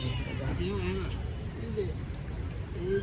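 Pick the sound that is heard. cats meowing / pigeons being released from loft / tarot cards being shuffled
cats meowing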